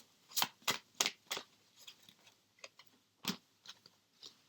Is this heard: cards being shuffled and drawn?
yes